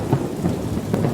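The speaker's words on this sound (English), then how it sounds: "The thunder is not chaotic or aggressive." Thunder rumbling through a rainstorm, a deep continuous roll with a few swelling peaks over steady rain hiss, loud and enveloping with no voices.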